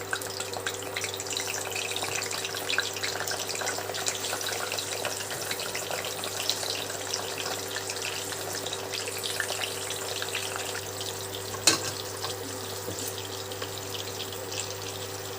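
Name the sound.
pointed gourd (potol) frying lightly in hot oil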